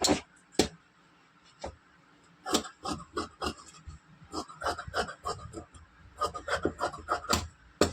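Scissors snip through folded blouse fabric in a series of close, crisp cuts, sparse at first and then coming in quick uneven runs.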